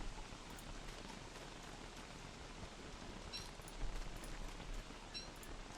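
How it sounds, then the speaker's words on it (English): Rain in the video game Don't Starve: Reign of Giants falls as a steady, dense hiss of drops, constant and even throughout, with no voices over it. "It's rainy."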